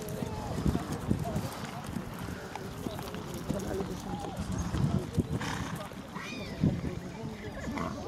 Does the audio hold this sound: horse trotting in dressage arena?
yes